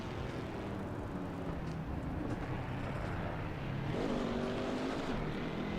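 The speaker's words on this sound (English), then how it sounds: "this car kind of sounds like trash on the exterior" Race car engine heard from outside the car in the Assetto Corsa Evo racing game, a steady droning roar that rises in pitch near the end, with no talking.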